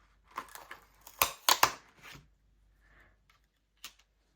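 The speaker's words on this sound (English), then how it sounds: "I'll just distribute them across my colored cardstock and cut all the pears from it" Scissors cutting pear shapes from colored cardstock give a few quick crisp snips and paper rustles, close and quiet, then a pause and a last faint snip.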